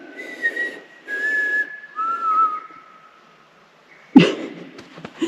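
A person whistles a few wavering, breathy notes in short phrases outdoors at Carnarvon Gorge, pauses, then a sharp sniff or breath follows near the end.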